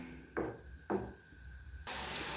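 Ground small onions sauté in a pan: two brief scraping stirs, then a steady, close hiss of frying that settles in and continues.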